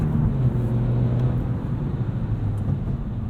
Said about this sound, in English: Hear that rev hang?